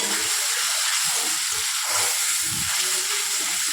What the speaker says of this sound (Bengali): এবার আমি ভালো করে ভেজে নেব মশলাটাকে